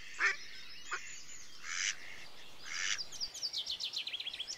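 Kriaxera ducks quack and honk in a run of calls, a few separate harsh calls first and then a quick rhythmic series, fairly close with no talking.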